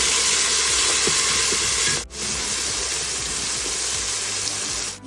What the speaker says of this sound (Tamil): வெங்காயம் அழகாக வதங்கிடுது.